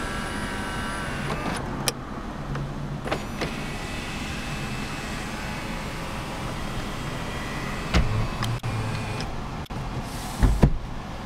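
The power moonroof of a 2009 Toyota 4Runner runs open with a quiet, steady electric motor whir inside the cabin, with a few soft clicks and bumps near the end.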